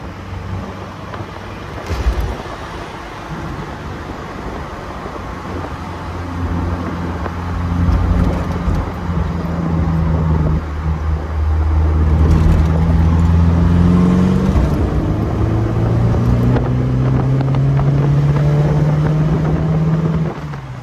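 A 1969 Alfa Romeo Spider Veloce with a Stinger exhaust drives past, its engine rising and wailing through gear changes, loud and close, with no talk.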